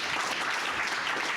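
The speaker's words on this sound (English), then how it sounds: "big round of applause to all of our speakers" Audience applause for the speakers at a mobile privacy lab event, a dense wash of clapping from a crowd, steady and fairly loud through the brief moment without voices.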